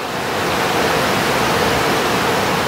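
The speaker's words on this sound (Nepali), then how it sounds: "मुनि खोला बगिरहेछ" A river rushes steadily beneath a pipe bridge on a slippery, dripping trail during the monsoon, a dense, even roar of flowing water with no break, close and loud.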